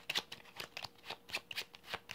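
A deck of playing cards is shuffled by hand during a solo tabletop card game, giving a close run of quick riffling bursts and soft slaps, about a dozen crisp flurries in steady rhythm with no talk.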